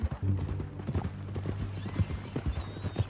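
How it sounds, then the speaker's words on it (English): Horse hooves clip-clop in a steady walking rhythm in the video game Red Dead Redemption 2, close and fairly quiet, with a brief whinny and some faint talk in the background. "That a new horse?"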